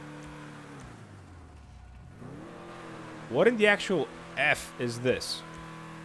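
Benefactor LM87 sports car, styled on the Mercedes-Benz C11, in GTA 5: a steady low engine drone swells into a rising rev, then someone talks loudly over the idling engine.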